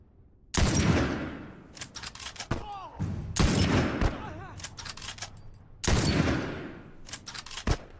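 Heavy rifle fire from a sniper rifle in The Last of Us: three loud, sharp broadband shots spaced a few seconds apart, each with a booming tail, mixed with smaller scattered gunfire and brief whistling sounds.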